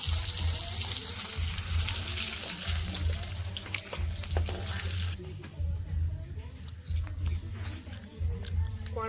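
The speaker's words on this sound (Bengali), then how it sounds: "পায়রা মাছটা দিকে ভাজা হয়ে গেছে," Pomfret fish frying in a pan, giving a loud, continuous sizzle with bursts of spitting crackle that ease off partway through, while a voice occasionally speaks in the background.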